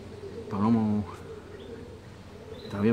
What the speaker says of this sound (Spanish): La paloma está aquí en el techito este de aquí.